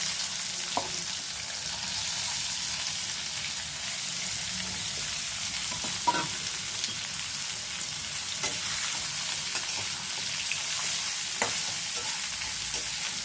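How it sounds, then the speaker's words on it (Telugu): Bitter gourd pieces fry in a pan with a continuous close, even sizzle, punctuated by light scattered clicks and spoon scrapes, no talking. "ఇప్పుడు ఈ కాకరకాయ ముక్కలు వేసేస్తున్నాను."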